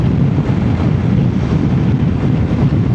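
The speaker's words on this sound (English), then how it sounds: "It's very windy on here," Strong gusts blow across a high bridge, a loud continuous roar of wind buffeting the microphone with a low rumbling drone and no speech.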